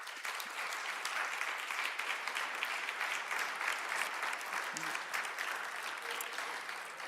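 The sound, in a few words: audience applause for committee members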